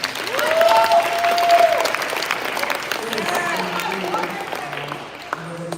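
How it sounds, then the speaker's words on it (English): A crowd at a Maine Department of Education transition summit welcomes a speaker with steady, full applause, a cheer or whistle rising over it early on, before the clapping gradually softens over several seconds. "Let's give Michael a big round of applause."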